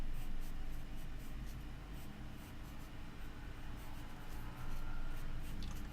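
Pencil scratching steadily across paper while a tree is sketched in, a close, continuous scribbling texture with small bursts of quicker strokes and no talking.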